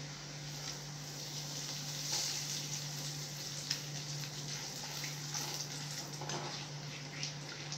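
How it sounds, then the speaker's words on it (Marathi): Bay leaves frying in oil for Solapuri black masala give off a steady, soft sizzle with a faint fizzing hiss, under a constant low hum and no talking. "तेजपत्ता आता तळून घेऊया आपण."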